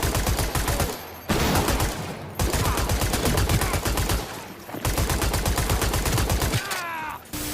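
Rapid bursts of machine pistol fire in the video game Cyberpunk 2077, loud rattling volleys separated by short pauses, with faint game sounds in the gaps.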